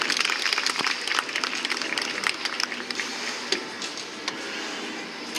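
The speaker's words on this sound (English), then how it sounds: "Let's give Orchid a round of applause." SeaWorld San Diego audience applauding Orchid the killer whale during a show, a broad, bright stretch of clapping from a large outdoor crowd that gradually loosens into scattered claps and ambient crowd noise.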